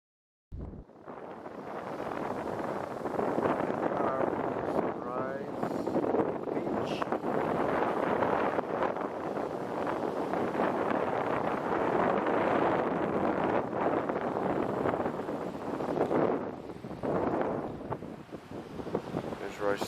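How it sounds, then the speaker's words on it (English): Strong gusting wind buffets the microphone outdoors at a tent campsite on a bicycle tour in Florida, a continuous roaring rumble with surging gusts that persists almost the whole time, with a voice briefly speaking beneath it. "What a lot of wind."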